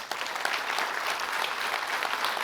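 A church congregation breaks into sustained applause during a sermon, a steady, dense wash of many hands clapping at even loudness throughout, with no talk over it.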